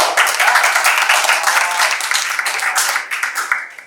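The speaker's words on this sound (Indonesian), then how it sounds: "tepuk tangan buat Niko" A classroom of students gives a lively round of applause for a classmate, loud, dense and continuous clapping that thins slightly at the end.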